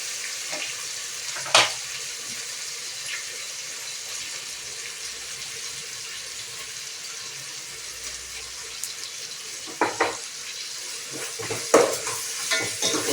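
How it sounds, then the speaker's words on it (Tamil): Tomatoes and salt sauté in a pan for chicken biryani, a soft steady sizzle running throughout, with a few sharp clinks and scrapes of a spoon against the pan near the start and again toward the end. "கொஞ்சம் வதங்கட்டும்."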